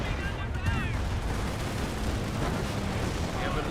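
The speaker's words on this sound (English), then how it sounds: "Panthers rotating around, being hit by multiple sources of artillery." Artillery shells pound German Panther tanks in Company of Heroes, a dense rumble of overlapping blasts and distant booms continuing steadily throughout under a loud battle din, with a voice faintly present.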